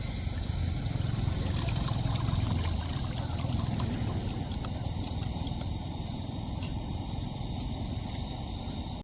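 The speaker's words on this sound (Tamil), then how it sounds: "இப்போ எல்லாம் சூட்டு தண்ணியை நம்ம கருவாட்டில் ஊற்றிடுவோம்." Hot water poured over dried fish while cooking a tamarind curry on a gas stove by the seashore: a steady, close trickling splash that runs unbroken for about nine seconds, with outdoor noise behind it.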